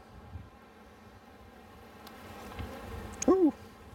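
Honeybees from an open hive colony after a spring cold spell, a soft hum under the quiet, then one loud close buzz swooping past the microphone with a rising and falling pitch near the end.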